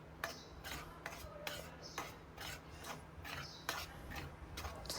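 Mung flour mixture roasting in ghee in a pan, with a spatula scraping and stirring in a steady rhythm of soft rasping strokes, quiet and close.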